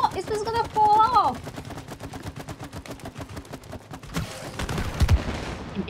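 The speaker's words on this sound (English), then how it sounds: "Look, Cody, shooting targets." Video game gunfire from the It Takes Two shooting-target mini game, a rapid rattling stream of shots over several seconds, with game music and sound effects at the start.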